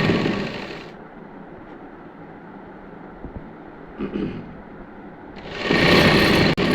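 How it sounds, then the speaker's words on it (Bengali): A sewing machine stitching a housecoat, running in two short bursts of fast whirring at the start and end, with a quieter stretch of hum and small handling clicks between them; no talking. "একটা সেলাই দিয়ে নেবেন সুন্দর করে।"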